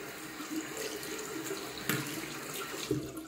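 A tap runs in a home bathroom while someone prepares to shave, giving a steady, fairly quiet rush of water with a couple of brief splashes as hands or objects pass under the stream.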